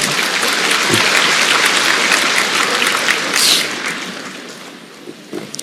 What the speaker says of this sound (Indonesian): Tepuk tangan buat suami saya.